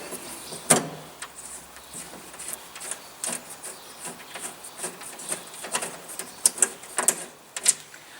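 Loose bolts being undone with a 13mm spanner on the bonnet of a Massey Ferguson 265 tractor, heard as close, irregular metallic clicks and ratchety taps in a quiet space, with no talk.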